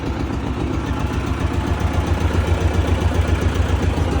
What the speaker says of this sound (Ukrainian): Зараз я запустив трактора і буду показувати, як він перекидає на бік.